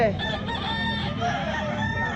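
A gamecock crows loudly and close by, with clucking from other chickens around it, at a fighting-cock market in Lipa, Batangas.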